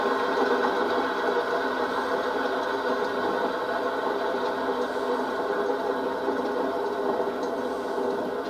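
A no-name bench grinder runs with a noisy bearing, giving a steady, continuous mechanical hum and whine at close range, alone without talk.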